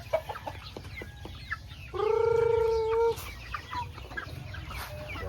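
Chickens cluck and peck softly nearby while being fed, with one bird letting out a longer, drawn-out call in the middle.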